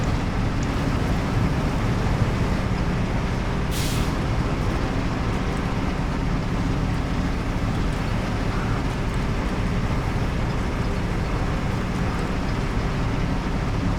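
A truck in the video game SnowRunner drives with a constant loud, rumbling engine drone, broken early on by a single short, sharp hiss of air brakes.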